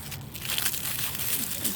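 Close, dry crunching and crinkling of brittle dead plant matter, a continuous crackly rustle up near the microphone.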